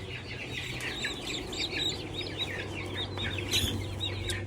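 Buff Orpington chicks in a brooder giving continuous high, overlapping peeps and cheeps over a low steady hum, moderately close, with no voices.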